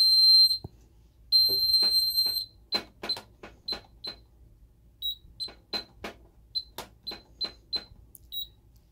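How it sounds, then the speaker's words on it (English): A high electronic carbon monoxide alarm beeps repeatedly in short bursts, starting with a couple of long tones, then sharp intermittent chirps amid clicking handling noises. "it doesn't show anything except for alarm and doing the intermittent beeping"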